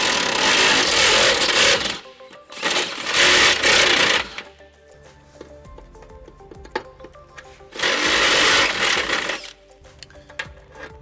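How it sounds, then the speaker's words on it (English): A step bit drills through the steel frame of a 2010 Nissan Altima to enlarge an access hole during a trailer hitch install, loud whining bursts in three runs separated by quiet pauses with small clinks. "to enlarge that hole, we're going to use our step bit"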